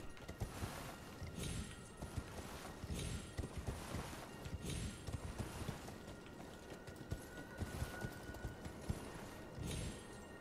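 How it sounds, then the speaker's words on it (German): A horse gallops in the video game Elden Ring, rhythmic hoofbeats pounding in quick repeated bursts over a low game soundscape, fairly quiet throughout. "Pferd."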